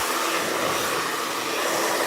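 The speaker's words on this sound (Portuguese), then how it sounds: "Então, só vai ter um barulhinho por causa do secador." A hair dryer blows loud and steady at close range while hair is brushed and styled at a 90-degree angle, a constant rushing whir with no talk over it.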